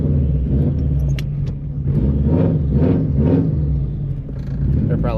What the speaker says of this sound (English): They're probably like, who the frick is this dude revving by my shop?